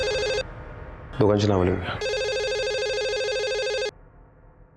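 A telephone rings in a tense police drama scene, a steady electronic ring with harmonic tones in two bursts, cut by a short stretch of speech between them, fairly loud and close.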